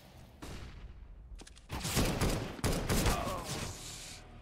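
Rapid gunfire from an auto sniper rifle in a Counter-Strike: Global Offensive competitive match on Mirage, with a faint shot followed by a dense volley of loud, sharp reports.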